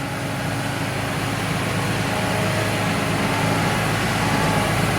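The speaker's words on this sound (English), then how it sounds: "we'll get this 7R tractor on the planter" A John Deere 7R tractor engine runs steadily at idle nearby, a continuous low diesel rumble with broadband noise that holds constant for the whole stretch, with no talking over it.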